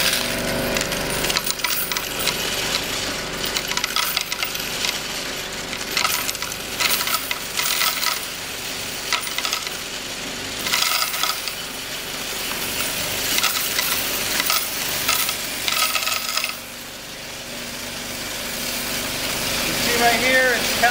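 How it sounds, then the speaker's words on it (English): A Cummins Allison JetSort coin sorter whirs and rattles continuously as a stream of coins clatters through it, loud and close, with a brief dip in level partway through. "Right here, it's counting all the coins, so it can give you a total."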